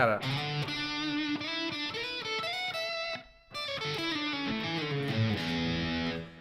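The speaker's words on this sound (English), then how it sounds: "I use this is like a heavy distortion pedal that I've rolled back." Electric guitar played through a Marshall amp with a heavy distortion pedal set partway back, giving a steady stream of thick, sustained chords and riffs. It plays close and loud, with one brief break near the middle.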